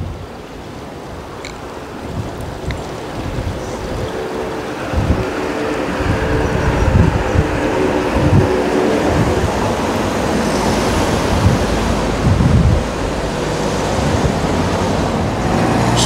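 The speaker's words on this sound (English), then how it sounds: "Quite windy on the bridge." Wind buffets a microphone on a bridge over the River Avon, a steady loud rumble with gusty low thumps and a broad hiss throughout.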